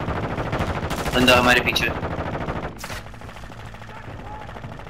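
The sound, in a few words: gunfire in the video game Call of Duty Warzone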